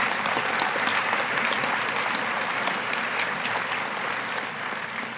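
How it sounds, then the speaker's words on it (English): Steady, dense applause from a crowd, clapping continuously and fairly loud throughout with no talking over it. "Let's have another round of applause for Alicia."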